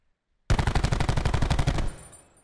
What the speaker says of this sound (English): Is that Chase shooting bodies?